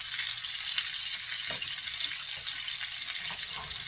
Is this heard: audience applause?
no